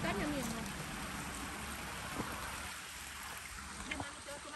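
Water from a mountain stream flows in a steady, moderate rush, with a voice briefly present over the continuous trickling.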